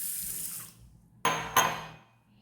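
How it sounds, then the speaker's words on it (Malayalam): Water is poured into a bowl of washed ingredients to soak in a home kitchen. It comes as two short, close splashing pours after a softer running-water hiss. "ഇനി നമുക്കതിലേക്ക് കുറച്ച് വെള്ളം ഒഴിച്ച് വയ്ക്കാം."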